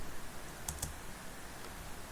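Keys pressed on a computer keyboard while filling in text for an e-certificate, two quick close clicks near the start followed by quiet background.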